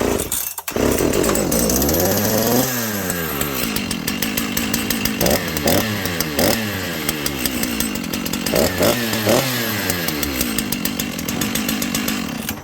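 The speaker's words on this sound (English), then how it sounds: "I ran this saw. Now, I want you guys to hear this saw." A Dolmar 7300 chainsaw with a Bearclaw exhaust pipe and limiters removed runs loud and close, idling then revving up repeatedly in several sharp bursts that rise and fall in pitch.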